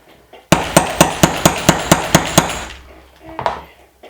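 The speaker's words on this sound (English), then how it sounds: "And this should be it for the big hammering." Snaps are hammered onto a sewn shirt: about nine sharp, evenly spaced metallic strikes in quick succession, close and loud, followed by a brief quieter knock and faint rustling.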